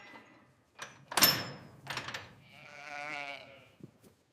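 Sheep in an enclosure give a wavering bleat after a few sharp knocks and rustles, the call fairly close and clear, then a brief trailing sound.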